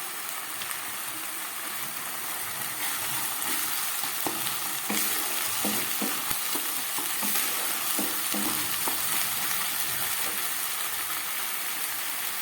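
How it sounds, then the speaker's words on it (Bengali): Spice paste of ground green and red chilies with chili powder fries for a mutton curry. It gives a steady sizzle with scattered scraping stir strokes from a utensil and no talk over it. "মিডিয়াম থেকে লোয়ে করে আমি মশলাটা খুব ভালো করে কষিয়ে নেব।"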